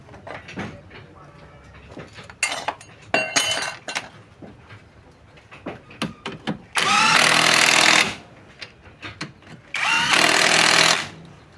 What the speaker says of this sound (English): Install the remaining one shock absorber bolt and tighten the two.